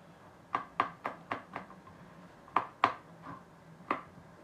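Garlic chopped with a knife on a board: two quick bursts of sharp, close taps, five strikes then four, with a pause between, and no voices.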